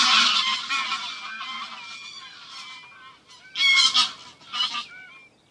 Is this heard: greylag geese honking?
yes